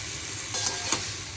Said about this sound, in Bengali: এই সুন্দর লঙ্কা ফোড়ন দিয়েছি।